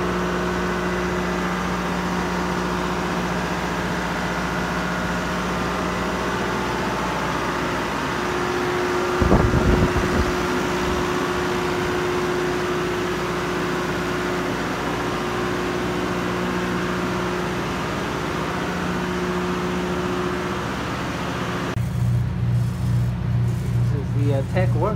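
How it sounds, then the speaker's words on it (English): Caterpillar engines and three generators run aboard a yacht support vessel as a loud, constant mechanical drone with a steady tonal hum, with a brief thump partway through and a shift in the hum near the end. "Caterpillar engines, three generators."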